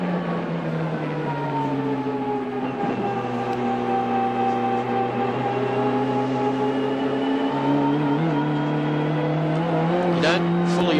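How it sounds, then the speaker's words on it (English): High-boost turbocharged Ford touring car in the 1992 Bathurst 1000, heard onboard from the Dick Johnson car in poor, darkening conditions: a loud, sustained engine drone with steady rising and falling harmonics as it climbs toward Repco. "Not conditions suited to this high boost turbo Ford."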